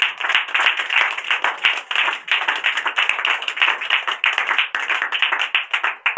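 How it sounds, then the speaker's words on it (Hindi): A school classroom of students claps together in a loud, fast, sustained burst, with many overlapping hand claps forming a continuous rattling texture. "शाबाश तेरे पर तालियां हो गई"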